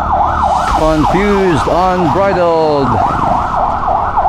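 An ambulance siren wails steadily at close range during a road cycling race, with a yelping sweep in the middle. Someone talks over it.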